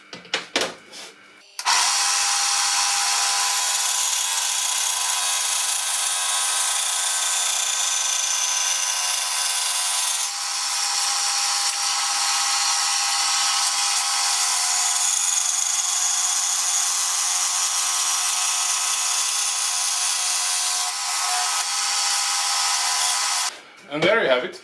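A power tool cuts along a scribe line in aluminium sheet metal for a compressor cover, giving a loud, steady, hissing grind that runs unbroken for about twenty seconds before it stops.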